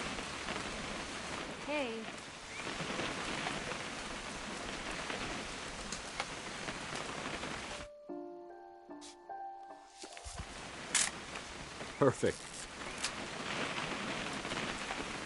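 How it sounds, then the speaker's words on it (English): Steady rain falls in the video game What Remains of Edith Finch, a continuous hiss broken by a brief silent gap midway, with scattered footsteps and a couple of short spoken remarks. "It's gonna rain the whole weekend, isn't it?"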